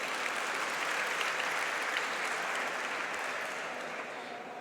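An audience at a store launch event applauds with sustained, even clapping from a crowd, steady in loudness before gradually tapering toward the end.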